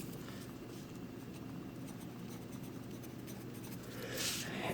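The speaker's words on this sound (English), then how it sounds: "So let me write that down here." Pen or pencil writing by hand on paper, a continuous soft scratching close to the mic, with a brief louder scrape near the end.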